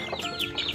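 A pet chicken gives short, close clucks in quick succession, fairly loud and alone, with a brief low thump at the end.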